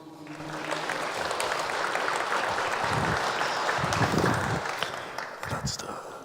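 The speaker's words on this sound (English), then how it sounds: "So please give a round of applause for Liz" Conference audience applauding a privacy talk speaker as she takes the stage, a broad steady wash of clapping throughout with a few louder low bursts mixed in.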